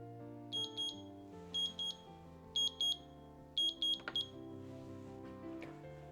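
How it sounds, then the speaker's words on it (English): A kitchen timer goes off while a flat iron steak rests, sounding clear repeated pairs of high electronic beeps in short bursts over a low steady background hum. "The timer just went off."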